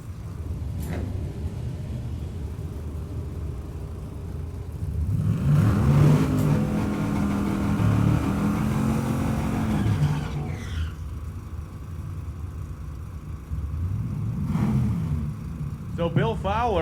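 A 1971 Mustang convertible drag car with a naturally aspirated 1,000-horsepower big-block engine roars down a drag strip, a rising engine rumble heard from a distance under a commentator's steady talk.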